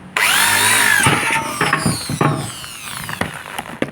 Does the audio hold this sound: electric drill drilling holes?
yes